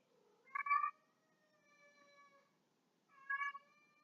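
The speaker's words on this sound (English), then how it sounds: "my cat is meowing away" Two clear cat meows about three seconds apart, fairly close, each with a strong tonal cry, with quiet room background between.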